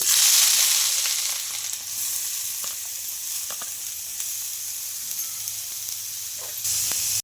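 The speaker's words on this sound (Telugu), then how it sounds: "ఆయిల్ కూడా హీట్ అయింది మనకు ఇలా చిన్నగా తరిగేసుకున్న ఆనియన్స్ అయితే వేసుకోవాలి" Finely chopped onions sizzle loudly in hot oil, a dense continuous hiss that starts strongest and holds steady, with a few faint stirring scrapes and no talking.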